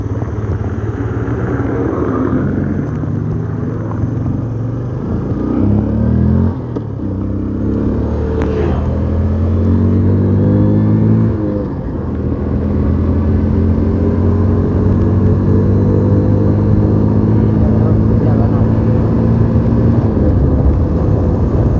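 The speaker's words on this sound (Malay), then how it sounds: "Kereta lambat." An engine hums steadily from inside a vehicle on a road, rising and falling through gear changes, loud and close throughout with no talk.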